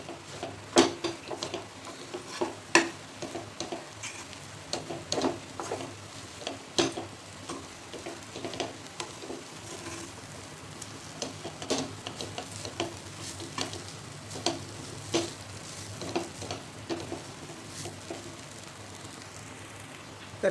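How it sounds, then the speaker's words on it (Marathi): Spiced mung dosa mixture with coriander powder stirred in a pan for a couple of minutes, soft scraping and light sizzling ticks repeating irregularly at close range, no voices. "त्याला छान 2 मिनिट मिक्स करून घ्यायचे"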